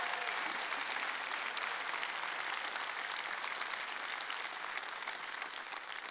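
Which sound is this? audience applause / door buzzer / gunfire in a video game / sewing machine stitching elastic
audience applause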